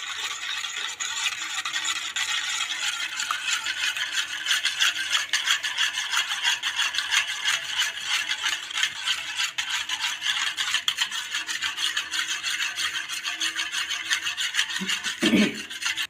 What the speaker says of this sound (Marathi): हे पीठ आता मी ह्याच्यामध्ये टाकून घेणार आहे आणि ह्याला सतत मिक्स करणार आहे